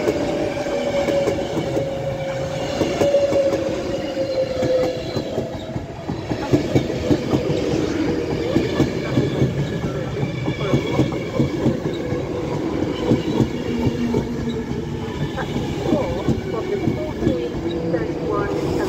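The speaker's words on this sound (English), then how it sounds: "So now coming round the corner is the 1426 Avanti West Coast service to London," An Avanti West Coast Class 390 Pendolino, the 14:26 service to London, passes through Wigan North Western station on the West Coast Main Line, a steady loud rolling rumble with wheel clatter building and sustained throughout, under faint station ambience.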